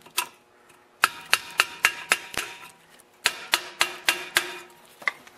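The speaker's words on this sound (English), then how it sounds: "Just use an old flat screwdriver and bend them out." An old flat screwdriver bends the metal muffler tabs on a blown 8 hp Tecumseh snowblower engine, producing sharp metallic taps in quick rhythmic runs with a pause between two series, close and fairly quiet.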